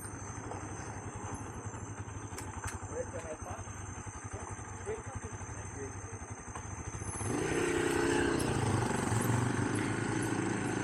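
A motorcycle ridden on a Kenyan trip at Ol Pejeta hums with a steady low engine drone, then the sound shifts to a rougher, louder rush near the end as it slows to park; faint speech is present.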